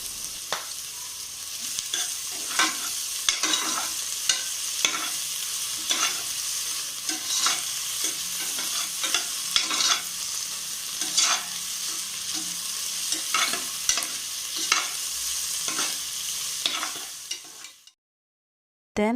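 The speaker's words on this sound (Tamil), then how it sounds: "நம்ம இஞ்சியும் பூண்டையும் நச்சு வச்சுருக்கோம் இல்லையா, அதையும் சேர்த்து நல்லா வதக்கிக்கோங்க" Ginger garlic paste sautés in a pan for chicken biryani, a continuous sizzle with repeated scraping stirs at an irregular rhythm, close and loud, ending in a sudden cutoff.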